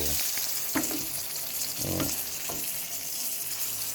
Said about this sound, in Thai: ตัวใหญ่ๆเลยนะทอดกรอบเกรียมกรอบเกรียม